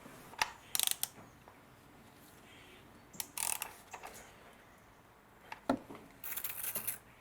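Several short bursts of ratchet clicking, close by, separated by pauses, with a final longer run of rapid clicks near the end, as a ratchet tightens the sump plug on a BMW F10 520d.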